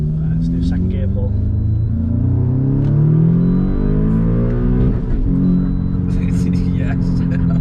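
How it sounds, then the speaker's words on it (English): An Audi S3 8V accelerates hard in second gear, its engine note climbing steadily in a loud, rumbling pull from inside the car, with a brief dip near the gear change before the revs build again. "Right, let's do a second gear pull."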